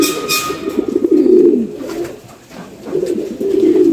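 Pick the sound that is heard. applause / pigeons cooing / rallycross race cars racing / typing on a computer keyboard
pigeons cooing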